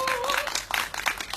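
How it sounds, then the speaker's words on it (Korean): An audience at a candlelight gathering claps together, a brief burst of dense, even applause from a nearby crowd. "다시 한 번 더 우리 김경철님께 큰 박수 한번 부탁드리겠습니다"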